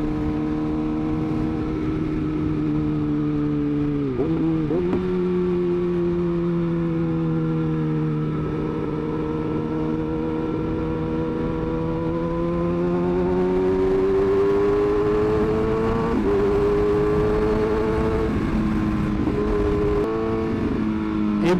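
A Kawasaki ZX6R motorcycle engine revs loud and close, holding a steady high idle and rising and falling through repeated throttle blips with no talking over it.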